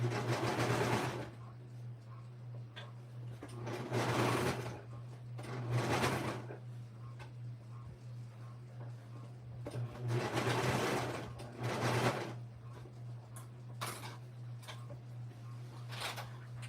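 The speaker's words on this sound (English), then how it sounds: "as I'm serging this" A serger overlocks the seams of a child's dress, trimming the gathered edge. Its whirring runs come in repeated bursts a couple of seconds long, close and loud, separated by pauses over a steady low hum, with no talk.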